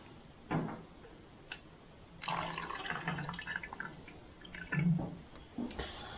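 Coolant drips and trickles from a car's cooling system, irregular wet taps and short liquid splashes close by with no talking.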